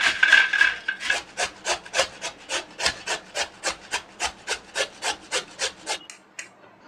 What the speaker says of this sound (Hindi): अब इन आलूओं को हम मोटे छेद की तरफ से कद्दूकस कर लेंगे।